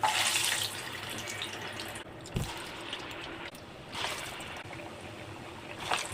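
A hand dipped into a plate of water while making yogurt vada gives soft splashes and trickles, with bursts of running water and dripping, close and fairly quiet, no voices.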